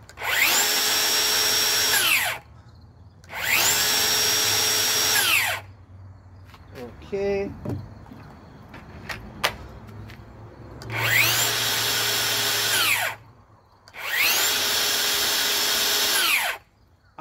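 A power drill bores into wood in four loud, steady bursts of about two seconds each, with quieter clatter and handling noise between them and a brief spoken word.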